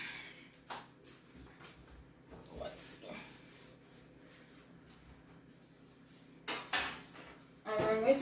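A metal pan handled in a kitchen while making Liberian meat pies, giving scattered light knocks and clatters, a couple of louder bumps near the end, with quiet pauses between.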